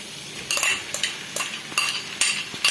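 Fried chicken pieces tipped into a pan and stirred while making Kerala-style chicken roast, with a series of sharp metallic scrapes and clinks of a spoon against the pan coming in regular bursts, close up and fairly loud.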